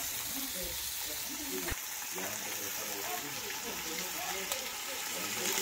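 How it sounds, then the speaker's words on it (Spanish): Bacon and chorizo frying in a pan for Extremaduran shepherd's migas, a dense, even sizzle close by, while a voice talks over it. "Se refríe todo."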